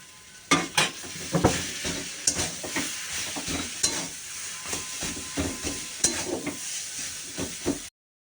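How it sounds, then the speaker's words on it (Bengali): Potatoes are stirred and fried in a kadai: repeated scraping ladle strokes in an uneven rhythm over a constant hot-oil sizzle, close and clear with no talking, ending abruptly. "দিয়ে দিলাম কড়াইতে এবার নাড়বো বেশ করে তাকে নাড়ব"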